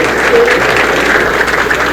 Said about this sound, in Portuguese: eu gostaria de ter uma salva de palmas para essa mesa